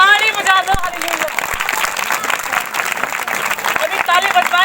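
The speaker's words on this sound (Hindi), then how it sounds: "ताली बजा दो।" An audience at a live healing church service breaks into applause, a busy patter of claps mixed with a swell of voices and a loud tonal voice or music at the start and end.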